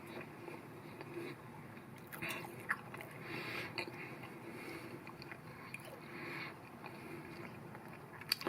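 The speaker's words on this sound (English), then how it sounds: "I'm just going to take a bite" A bite taken into a freshly baked Turkish pide with cooked dough and guanciale topping, giving soft, close crunching and chewing sounds over a steady background hiss, fairly quiet throughout.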